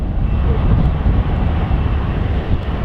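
A jet airliner taxiing at Manchester Airport, a loud, steady low engine rumble with constant roar and some wind buffeting on the microphone, no voices.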